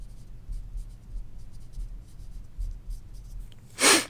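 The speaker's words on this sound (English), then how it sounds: "Let's write these down real quick." A pen or pencil writes out math steps by hand, giving a steady, soft scratching over faint background hum, ending in a brief louder stroke or tap.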